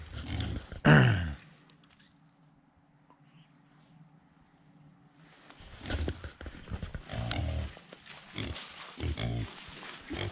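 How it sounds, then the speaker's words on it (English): Pigs from a hog confinement feed in a homestead pen, with a loud grunt or squeal up front, a quiet lull, then bursts of snuffling, chomping and rustling close by. "Pigs are over here busy eating yet."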